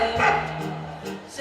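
Dog barks and yips set into a French cabaret performance of a song, sounding under a sung or spoken voice throughout the short excerpt.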